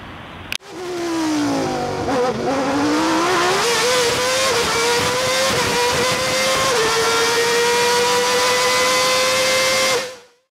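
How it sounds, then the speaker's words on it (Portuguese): Pontiac Firebird pulling away with its engine revving loudly and steadily climbing in pitch, a close, continuous roar lasting about ten seconds before cutting off. "O Pontiac Firebird se preparando para ir embora."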